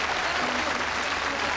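An audience on a TV shopping show applauds, a loud, steady wash of dense clapping that fills the whole moment without a break.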